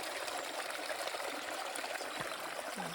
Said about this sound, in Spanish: Está el agua cayendo por escalera.